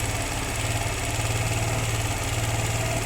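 A Suzuki GR150 motorcycle engine idles close by during air-fuel mixture adjustment, a steady, loud, rhythmic mechanical chugging that holds constant throughout.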